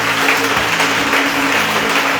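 A church congregation applauds to acclaim the Lord Jesus, a dense, steady wash of clapping that stays loud and continuous throughout, with no voices standing out.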